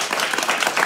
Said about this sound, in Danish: prøv lige at klappe en gang